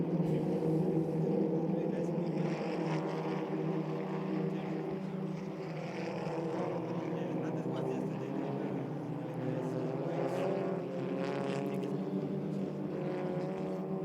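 SEAT Leon Eurocup race cars at Paul Ricard, France, engines droning steadily and loudly as they pass, with a commentator talking over the continuous roar.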